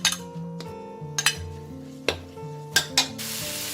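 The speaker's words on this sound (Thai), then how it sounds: "แล้วก็เปิดแก๊สเลยค่ะ แล้วก็ใส่ส่วนเครื่องของเรานะลงผัดเลยค่ะ" Thai curry paste stir-fried in hot oil in a pan for a sator bean and pork belly dish, sizzling under several sharp metallic clinks and scrapes of a spatula against the pan.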